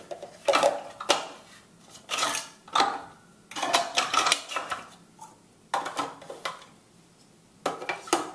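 Parts of a cold press juicer are fitted together: a series of sharp plastic clicks, knocks and rattles in irregular bursts with short pauses between, close and moderately quiet.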